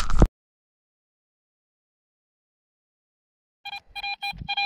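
A metal detector emits a short burst of rapid electronic beeps after a long silence, the tones clear and close.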